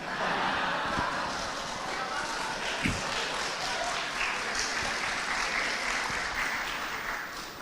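In a packed university social and political science hall, dense, continuous crowd applause fills the room without a break, with voices and occasional thumps mixed into the roar.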